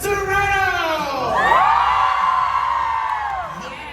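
A concert crowd in Toronto shouts and cheers in one long, loud swell of high voices that rises and then slowly fades.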